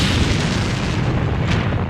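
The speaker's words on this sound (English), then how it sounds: "Back-to-back explosions hit the capital Damascus early on Friday." Car bomb explosion in Damascus, a loud, dense, rumbling blast that fills the whole stretch with sustained roaring noise and no voices.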